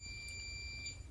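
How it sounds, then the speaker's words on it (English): An alarm beeps indoors in a quiet room, a steady high electronic tone with brief louder chirps near the start and end, faint against a low background hum. "That's the alarm thing."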